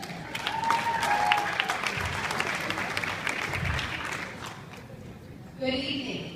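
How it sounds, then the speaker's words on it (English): Wedding reception guests applaud a maid of honor's toast, a soft, fairly distant patter of clapping that tapers off, followed by a brief voice at the end. "Now let's get a round of applause."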